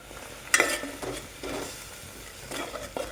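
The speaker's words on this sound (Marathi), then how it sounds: "आता आपण जी पालकची पेस्ट करून घेतली होती ती यामध्ये टाकायची आहे" A pan sizzles softly while a thick spinach paste is stirred into a tempering with asafoetida, with a few scraping bursts and a brief clink of a utensil, close up.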